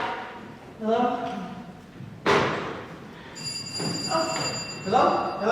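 During a stage production of Arsenic and Old Lace, a thud is followed by a sustained ringing doorbell tone, heard amid actors' voices on a reverberant stage.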